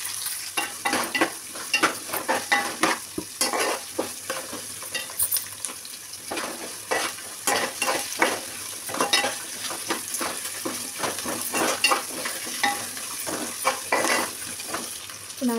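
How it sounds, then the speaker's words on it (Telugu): Large-cut onions fry in a pan for pumpkin pulusu with a continuous close sizzle. Frequent rhythmic stirring scrapes run through it, with no talking. "ఇప్పుడు ఆనియన్స్ వేసుకుందాం."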